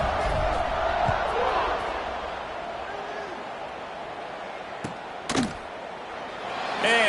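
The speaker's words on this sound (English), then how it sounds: "this crowd is buzzing after that last score" A football stadium crowd at a WKU versus Delaware game buzzes in a steady, broad roar, with a few sharp knocks and a brief louder swell near the end.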